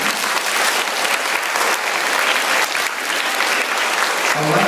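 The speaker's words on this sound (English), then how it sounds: "Give me some applause if you're going to talk to your parents about voting." A school audience in a hall at a mayoral forum breaks into sustained applause, dense and loud clapping that runs without pause for several seconds.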